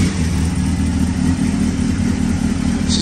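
An old Honda motorcycle engine, freshly revived after years in storage and run off a borrowed BMW battery, idles steadily and loudly up close with a constant low rumble throughout.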